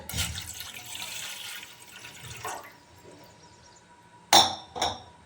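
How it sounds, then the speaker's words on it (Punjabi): A glass of water pours into a pan of used tea leaves set on a gas stove, a close splashing stream for a couple of seconds, followed by two sharp metallic clinks. "ਹੁਣ ਆਪਾਂ ਪਾਵਾਂਗੇ ਇਹਦੇ ਵਿੱਚ ਇੱਕ ਗਲਾਸ ਪਾਣੀ ਦਾ"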